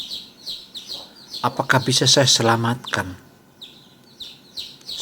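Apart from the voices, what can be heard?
baby chick chirping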